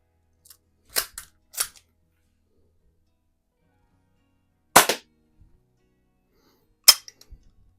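A Daisy Red Ryder BB gun fires in a quiet room, giving four sharp, dry snaps spaced irregularly over several seconds, with faint clicks between them.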